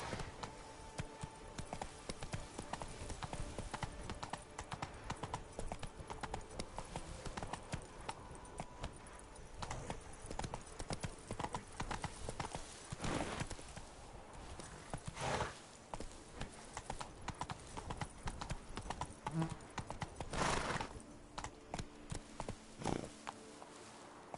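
Hoofbeats of a horse galloping in a PS4 video game, a fast continuous clip-clop rhythm throughout with occasional louder impacts and a faint voice now and then.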